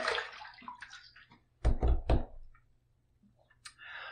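Tap water splashes briefly as a safety razor is rinsed, with two or three close, loud gushes in the middle after a softer trickle at the start.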